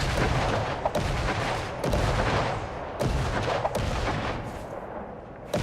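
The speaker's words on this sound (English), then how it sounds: "Lilia coming down with the flamethrower, however swapping to the AK to finish out the opponent with the quick shots." Gunfire and grenade blasts from the video game Creative Destruction during a tournament match, with a flamethrower and AK rifle in use: loud repeated bursts of shots and booming impacts, dense and continuous, with no talking.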